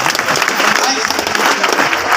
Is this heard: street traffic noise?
no